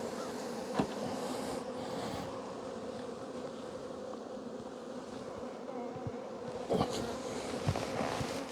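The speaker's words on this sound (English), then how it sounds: "Yeah, that's a lot of bees there." Dense, steady buzzing of many honey bees swarming around an open hive during an early-season inspection, close and continuous with a few louder passes near the end.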